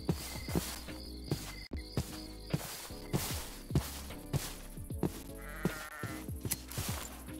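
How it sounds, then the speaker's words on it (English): Sheep in the Minecraft video game bleat repeatedly in short, evenly spaced calls over faint insect-like chirping and soft footsteps, with no talking. "That's only one sheep? What happened to the other ones?"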